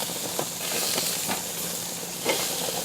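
Pork chops sizzling on a hot grill give a steady, broad hiss that holds evenly throughout, with a few small pops and crackles and no voices.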